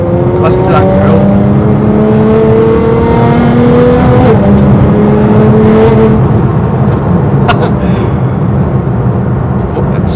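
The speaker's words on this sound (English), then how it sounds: "even if you're coming down the gears, it sounds like a blinking Formula 1 car" Loud, continuous engine of a 640bhp Nissan GT-R on air ride, revving with rising harmonic sweeps as it climbs and shifts through gears, close and sustained for the whole stretch, with faint voices underneath.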